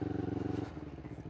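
A Honda CBR 250RR motorcycle is being parked: its engine idles close by with a rapid, even pulse that turns rougher and uneven as it settles.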